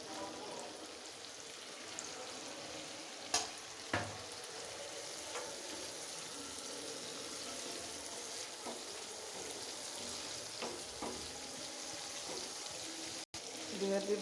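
Dried fish sizzles and fries in a pan with a steady crackling hiss, broken by occasional clinks of a utensil, while a voice talks quietly over it.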